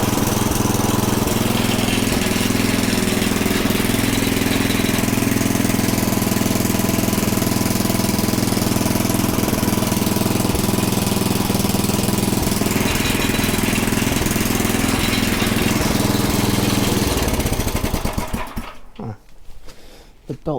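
A front tine rototiller's small replacement engine runs loud and close with a rough, throbbing low rumble for most of the stretch, then cuts out and sputters to a stop near the end; a voice may be faintly present.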